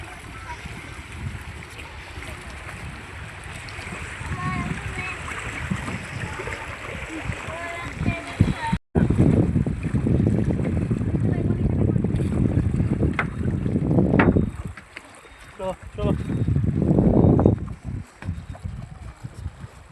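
A boat leaves Gazikhali ferry ghat, its engine a low steady rumble with wind buffeting the microphone and water rushing nearby. People talk over it, and the noise swells and drops toward the end.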